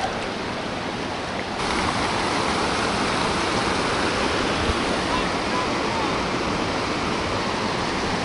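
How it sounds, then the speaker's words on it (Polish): Big waterfall and river current in Brazil roaring as a dense, constant wash of broadband noise, loud and close throughout with no breaks. "Pawłowi chyba klapek spadł i popłynął z nurtem wodospadem"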